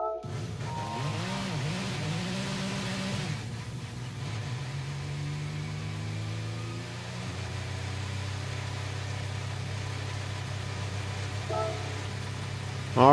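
A 2011 Audi R18 TDI diesel race car in Gran Turismo 7 starts up after a few short menu tones, settling into a steady, low, even idle drone that holds to the end.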